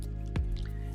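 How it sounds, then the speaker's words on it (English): A single soft drip of water from a small automated garden pump, faint and close, set against a low steady hum. "Maybe it's pumping too much water or it's pumping it too fast."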